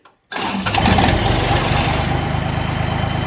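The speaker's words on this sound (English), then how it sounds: "So let's fire up the tractor here." A John Deere 855 compact tractor engine cranks briefly and fires up, then settles into a loud, steady diesel idle close by with a continuous low rumble.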